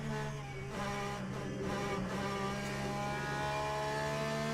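A race car engine in the sim racing game Le Mans Ultimate at the Fuji circuit holds a steady, loud, buzzing drone with a slight rise in pitch, heard alone with no voices.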